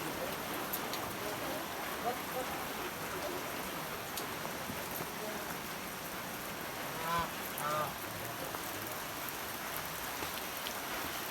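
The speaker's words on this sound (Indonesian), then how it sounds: "Kebetulan kita ini hujan." Steady, faint rain falls continuously at a livestock setting with sick cattle, a soft even hiss with occasional drops, and distant honking birds briefly heard near the middle.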